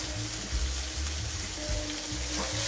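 Spices frying and sizzling in a pan for a jackfruit and paneer curry, a steady loud hiss with faint stirring scrapes, no talking.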